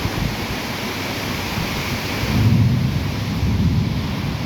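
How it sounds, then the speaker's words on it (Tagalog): A strong storm wind roars steadily outdoors, thrashing leaves, while a deep rumble of thunder swells near the middle and rolls on; no voices are heard. "Grabe yung kidlat, kulog, at saka yung hangin."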